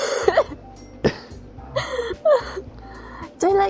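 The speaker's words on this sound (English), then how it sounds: "Yeah, Monika, you got a cough?" A game character from Doki Doki Literature Club gives a short cough near the start, among brief throat and breath sounds, with soft music underneath and voice snippets later.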